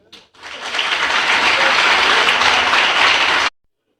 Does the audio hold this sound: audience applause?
yes